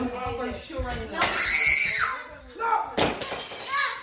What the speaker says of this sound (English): a drinking glass broke, but nobody was hurt